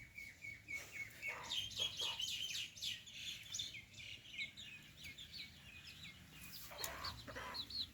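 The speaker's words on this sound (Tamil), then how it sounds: "இந்த கோழியும் அதோட பிள்ளைகளும் காத்து கொண்டிருக்கிறது" A hen with her chicks beside fish being cleaned, rapid high peeping from the chicks in bursts, with occasional lower clucks from the hen over a low background rumble.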